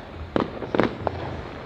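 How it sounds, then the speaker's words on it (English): New Year's fireworks in Jamaica burst in the distance, three or four muffled booms with crackling tails spread across a few seconds against a low outdoor hum. "Ah, I can see some fireworks over there."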